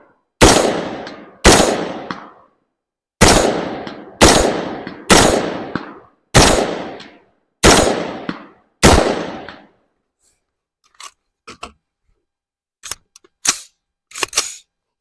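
Gunshots from a Palmetto State Armory PA15 16-inch 5.56 rifle at an outdoor range: eight loud, sharp reports in an uneven rapid string, each with a short decaying tail, followed by quieter faint clicks and handling knocks.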